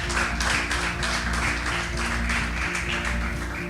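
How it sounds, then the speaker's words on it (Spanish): A church congregation claps at a steady pace, the sound evenly sustained and fairly close, with organ or keyboard chords held underneath. "Bendecirle con un fuerte aplauso a Dios si le estás creyendo"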